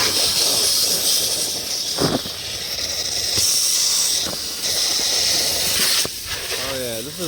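A water spray hisses steadily while rinsing down a flood-damaged Coolster 125cc ATV that sat underwater, a loud close rushing wash with a few abrupt shifts as the stream moves across the machine.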